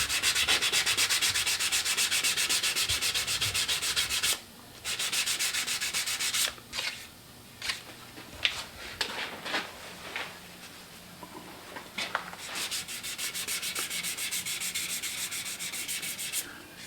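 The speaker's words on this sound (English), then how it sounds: "just sand the radial scratches out of it" A wooden ornament display stand is hand-sanded with 180 grit sandpaper along the grain, giving a close, continuous rasping scrub that breaks into short, irregular strokes partway through.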